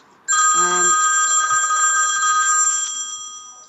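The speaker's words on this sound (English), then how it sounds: "My phone's very busy today" A telephone rings during an interview, a sudden loud electronic trill with a bright, tonal warble that starts abruptly and holds for about three seconds before tapering off, alone without talk.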